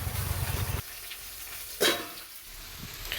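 Chengti fish frying in a wok, a steady hiss of oil that cuts off abruptly partway through, followed by a quieter, softer sizzle with a brief louder burst of spattering near the middle.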